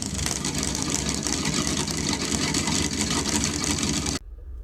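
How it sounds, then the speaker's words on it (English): A Mercruiser inboard boat engine runs steadily at a loud, even drone for about four seconds, then cuts off abruptly, leaving a quieter low hum. "now with the boat running"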